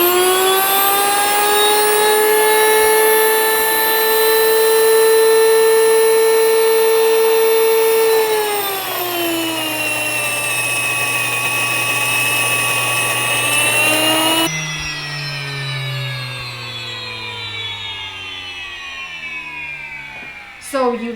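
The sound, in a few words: electric grain mill grinding sorghum on coarse setting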